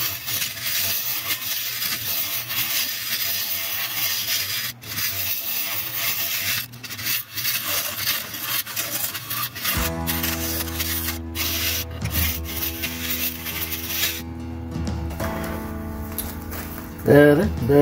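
A bowl gouge scrapes and cuts into a hard eucalyptus wood bowl on a lathe with a steady rough rasping, and later the lathe's hum comes through more clearly.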